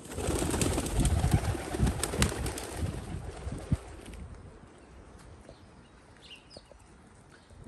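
Damascus pigeons, a Syrian breed kept in Berlin, Germany, cooing and stirring in a loft, with soft rustles and scattered low calls that are busier at first and quieter later, with no talk.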